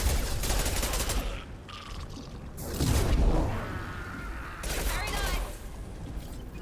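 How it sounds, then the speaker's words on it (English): Sustained gunfire in the Mass Effect video game, with dense bursts of rapid shots and swooshing effects rolling on continuously and loudly throughout, swelling in a few heavier waves. "Taking fire."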